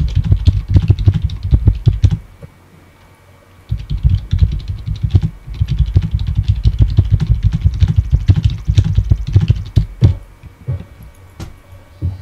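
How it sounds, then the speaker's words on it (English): Rapid typing on a computer keyboard rattles close to the microphone in dense, continuous bursts, pausing briefly for about a second before resuming just as fast. "that was quite a storm of typing there"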